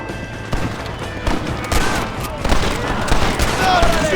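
Gunfire in the Red Dead Redemption video game, with scattered shots and bursts throughout a busy firefight. Shouting voices and other battle noise cover much of it.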